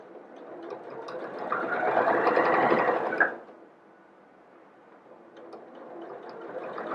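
Sewing machine stitching a placket seam, a soft whirring run that swells and then cuts off, followed by a quieter stretch and a second, fainter run of stitching.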